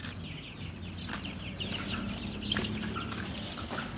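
Chickens and small chicks kept in little coops cluck and peep softly in scattered bursts, a few sharper calls standing out against a low, continuous farmyard background with no one talking.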